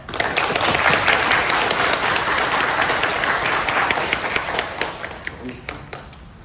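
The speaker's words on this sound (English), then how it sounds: "So please welcome the Reverend Miyaji, the former Rimban of the Fresno Betsuin Buddhist Temple, with applause." An audience at a Buddhist temple service applauds steadily, dense clapping that holds strong for several seconds and then thins out and fades toward the end.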